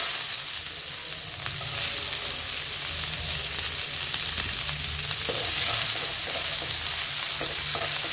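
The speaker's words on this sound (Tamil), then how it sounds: "கடுகு நல்லா பொரிஞ்சதும் நம்ம கட் பண்ணி வச்சுருக்க ஆனியனையும் சில்லியும் ஆட் பண்ணிக்கலாம்." Chopped onion and chilli hitting hot butter with popped mustard seeds, a steady loud sizzle with scattered crackles and occasional spoon scrapes against the pan, no talk.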